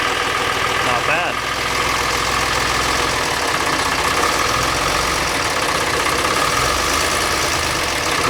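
A Magirus Deutz 170D11 truck engine runs steadily at a loud, rumbling idle throughout, with a sticking throttle; a voice talks briefly over the engine noise.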